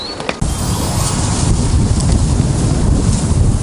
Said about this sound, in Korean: 바람 너무 심하게 불다